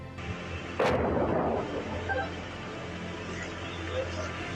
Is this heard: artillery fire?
yes